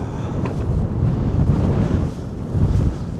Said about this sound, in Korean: 이 바람 소리 들리시나요?